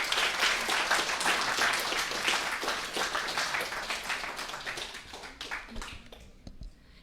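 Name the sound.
audience applause after conference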